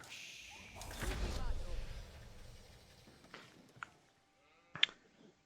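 Sheep bleating in the strategy video game Age of Empires IV, a few short calls rising over game ambience and a voice talking, with a sharper bleat near the end.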